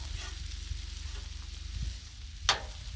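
Ghee sizzles faintly and steadily on a Blackstone griddle, a soft continuous hiss with one brief sharp click near the end and no talking.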